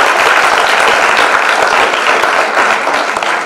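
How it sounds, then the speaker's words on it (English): A panel discussion audience at a literature festival breaks into dense, loud applause for the panelists, sustained clapping that tapers slightly toward the end. "First, a big round of applause for our panelists here."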